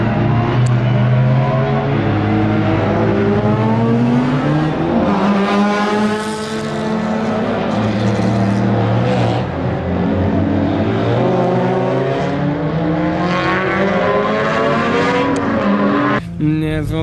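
A heavily modified Honda Civic race car drives on a track, its engine a loud, continuous close roar with rising and falling pitch as it works through the gears, ending in a brief sharp burst.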